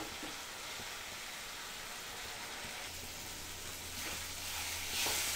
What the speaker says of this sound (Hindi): 2 से 3 मिनट के लिए मसालों को और फ्राई करेंगे